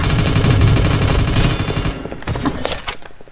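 Rapid bursts of gunfire in the Roblox game Randomizer, loud close machine-gun-like volleys rattling for about two seconds, then scattered single shots trailing off.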